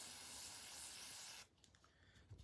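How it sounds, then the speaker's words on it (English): Cleaner sprayed from a can into the bolt extractor channel of a custom Ruger 10/22 competition rifle, one steady hiss lasting over a second, then faint handling clicks. "let me just put a little more squirt down here in the extractor channel"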